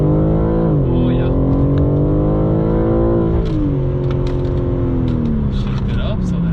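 A 2021 BMW G80 M3 accelerates hard, its loud engine note climbing steadily in pitch, dropping briefly at a gear change and then climbing again, with a continuous roar from start to finish.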